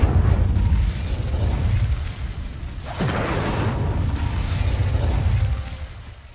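The Incendio fire spell bursts in Hogwarts Legacy on PS5, with a loud fiery whoosh at the start and another blast about halfway through, each trailing into a rumbling roar before fading near the end.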